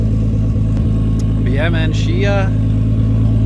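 A Nissan Skyline R33 GTST engine idles steadily after its idle air control valve was cleaned, a constant low rumble close by that stays even throughout, with someone talking over it.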